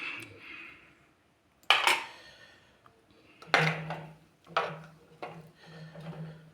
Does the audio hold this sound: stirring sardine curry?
yes